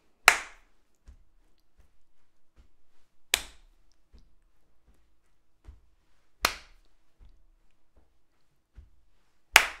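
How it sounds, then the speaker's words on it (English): Single hand claps keep time on the first beat during an online singing session: four loud, sharp claps spaced evenly about three seconds apart, with soft low taps marking the counted beats in between. "Clap on one"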